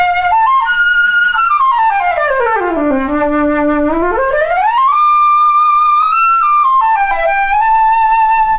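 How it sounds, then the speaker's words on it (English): A Cecilio 2 Series student flute playing a clear melodic line that glides down and back up in pitch, bright and close, with no voices. "I'm here to tell you about the Cecilio 2 Series flutes."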